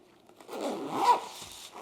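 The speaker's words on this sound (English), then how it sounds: "So then you can just zipper it up." A zipper is pulled closed on a travel gadget organizer pouch in one quick, close rasping stroke lasting under two seconds.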